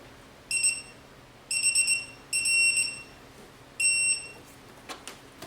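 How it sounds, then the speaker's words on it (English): A digital torque wrench beeps during a cold air intake install on a 2021 BMW M440i: high electronic beeps in four bursts of rapid pulsing tones with short gaps, then a couple of faint clicks. "Till we hear a beep."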